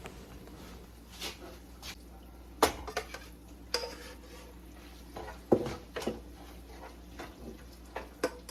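Ackee tipped into a pan of onions and saltfish sautéing over medium heat, giving scattered soft clatters and scrapes of utensil against cookware, several sharper knocks standing out over a quiet background.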